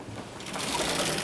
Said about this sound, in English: we might have to use the Vitamixer